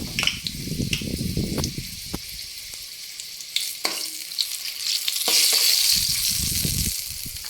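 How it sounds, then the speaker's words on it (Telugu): Five or six dry red chillies frying in oil as a tempering, a close crackling sizzle with scattered sharp pops and some low clattering bursts near the start and end. "ముందుగా మనం ఎండుమిర్చి వేసుకుందాము."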